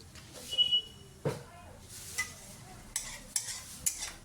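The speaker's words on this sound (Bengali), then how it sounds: "তিনটে লবঙ্গ একটু দারচিনি ফোড়ন দিলাম।" Whole cloves and cinnamon sizzle in hot oil in a pan, with a steady frying crackle broken by sharp stirring scrapes and clinks, close up with no talking.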